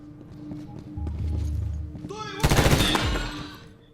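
A burst of rapid gunfire in Medal of Honor erupts after low rumbling and faint voices, loud and dense for about a second before fading.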